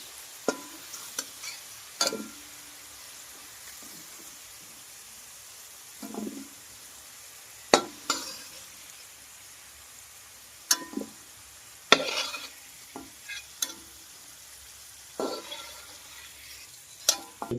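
Potatoes being lifted out of hot frying oil, a soft low sizzle beneath scattered sharp clinks and scrapes of a utensil against the pan, intermittent and close, with no voices.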